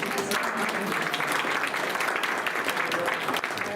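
Audience applause after a talk, a dense burst of clapping from a crowd that holds steady and loud throughout.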